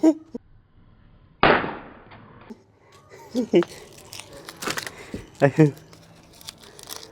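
A homemade onion-style pop cracker bursts with a sharp, loud pop, followed by scattered crackles, small snaps and scraping handling noises, with a few short voice sounds near the end.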